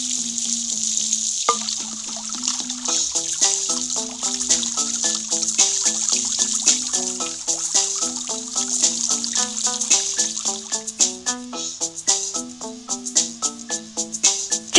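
A constant hiss of running water from a hose in a video game flows beneath a bouncy, plucked game melody that plays the whole time.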